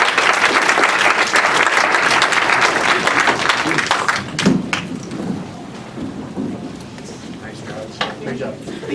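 An audience at a civic student event gives a round of applause, loud dense clapping that fades into scattered claps and a few sharp individual ones toward the end, with faint voices in the background.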